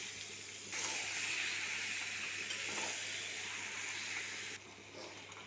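Pieces of mutton fry in a pan with Kashmiri chili powder, giving a loud, steady sizzle that swells once the meat goes in and eases slightly near the end, with no talking.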